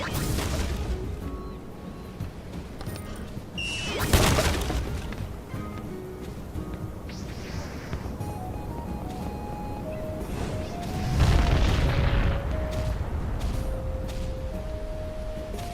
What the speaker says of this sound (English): He's using explosion magic.